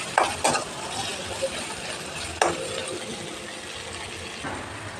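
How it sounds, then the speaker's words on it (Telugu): Onions and grated ginger stir-fried in a pan for a drumstick egg curry, a steady low sizzle with a few sharp spoon scrapes and clanks against the pan, near and alone. "ఉల్లిపాయలు కొంచెం మెత్తగా అయ్యేంత వరకు వేయించుకోవాలి"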